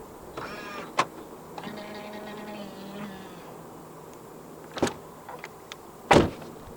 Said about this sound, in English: The windows dip down a little bit as you open the doors to clear the door frame.